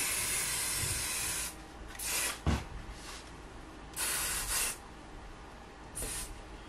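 Short bursts of hissing spray adhesive, several in a row with pauses between, close by, over a steady background hiss.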